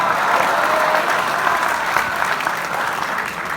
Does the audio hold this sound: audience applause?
yes